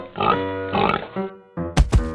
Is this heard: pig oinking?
yes